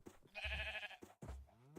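Sheep bleating in the Minecraft ATM10 modpack game, two short quiet bleats about a second apart, alone without talk.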